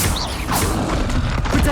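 Confringo fire-blast spell cast in the video game Hogwarts Legacy: a dense, roaring burst with crackling thumps and whooshes, loud and close, with a spoken voice briefly mixed into the game noise.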